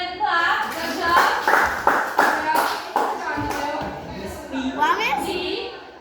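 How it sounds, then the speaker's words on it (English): A classroom of children gives a classmate a short burst of clapping, many hands patting together in a quick, close, uneven patter, with a teacher's voice and children's voices mixed in. "Give Myra a little clap."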